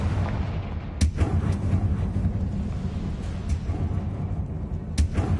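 Confringo spell blast in Hogwarts Legacy: a sharp booming burst near the start over a dense, rumbling background, followed later by another blast near the end.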